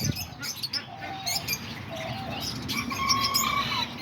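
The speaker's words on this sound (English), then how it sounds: "And then there's all the lovebirds over here." Lovebirds chirp in an aviary at a pigeon loft on a rainy day, a steady chorus of small overlapping tweets and calls at moderate distance.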